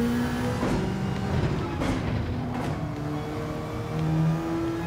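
Car engine in Gran Turismo 7 played on a wheel and pedals, revving up with rising and falling tones as power comes back on after a corner, steady and fairly loud with no talk.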